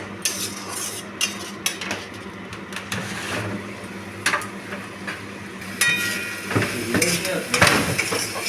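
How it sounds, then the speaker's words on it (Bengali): Spices for a rohu fish curry being stirred in a pan, with a continuous scraping spatula and clinking metal over a low sizzle, close up and busy with irregular bursts of scraping, no voices. "ভালোভাবে মশলা নাড়িয়ে চাড়িয়ে নিচ্ছি।"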